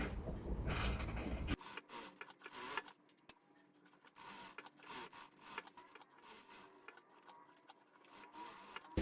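A sewing machine stitches a seam in fabric while a beginner's bag is sewn, running with a steady mechanical rattle after a brief rustle of cloth at the start.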